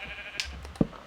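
Sheep bleating in a Minecraft-style building game, where three sheep are penned in small enclosures; two short, faint bleats sound about half a second apart.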